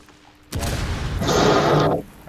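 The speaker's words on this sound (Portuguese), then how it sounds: "Explosão." Explosion in the tactical shooter game Rainbow Six Siege: a sudden loud blast that rumbles and roars for about a second and a half before cutting off, heard alone without talk.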